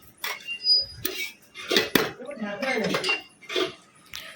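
A spoon stirs semolina (suji) in a cooking pot, giving close, irregular scrapes and metallic clinks against the pot with short pauses between strokes.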